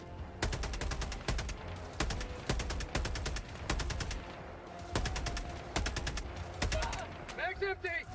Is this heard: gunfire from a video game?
yes